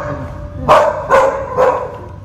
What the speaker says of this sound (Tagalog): Yan na yung mga aso nila, oh.